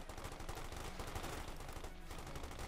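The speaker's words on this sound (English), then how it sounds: "Machine gun man gets some extra kills there" Machine gun fire in the Company of Heroes 2 real-time strategy game comes as rapid, dense bursts of shots over a steady battle din.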